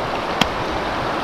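Steady broadband rush of a river flowing beside a riverside campsite, a soft continuous wash of water with one brief faint tap partway through, no voices.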